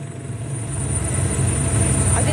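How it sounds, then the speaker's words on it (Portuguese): A Brazilian Army helicopter at Dourados airport, its engine and rotor producing a loud steady droning hum with a high whine, close by and constant, with muffled voices beneath. "A gente vai sair agora do aeroporto de Dourados para a cidade de Mundo Novo nesse helicóptero do Exército."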